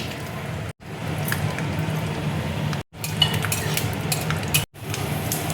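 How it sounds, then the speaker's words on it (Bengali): Peanuts hitting hot oil in a wok, a steady close sizzle broken by brief pauses, with faint clinks of a utensil against the pan. "কড়াইয়ে দেখো তেল দিয়েছি। এবার আমি বাদামটা দেখো দিয়ে দিচ্ছি।"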